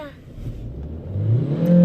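A car engine revs and climbs in pitch as the car speeds up, growing louder and rising steadily to a strained high whine by the end.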